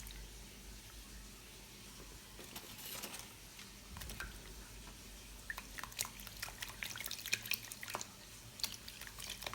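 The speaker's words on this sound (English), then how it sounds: "Donc, je vais rincer ça." Water runs and drips while dyed hair bundles are rinsed, a soft steady wash of flow under scattered patters and splashes that grow busier toward the end.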